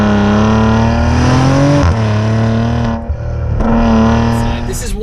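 A small turbocharged Maserati engine revs loudly outside, its harmonic drone climbing and falling through two strong pulls before a brief lift-off and another surge.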